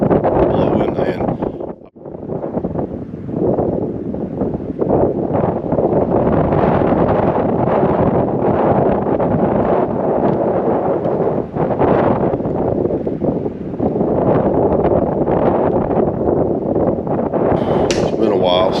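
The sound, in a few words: strong wind blowing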